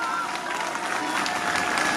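Audience applauding children receiving DELF diplomas at the Alliance Française of Armenia's 15th anniversary celebration, a steady dense clapping throughout.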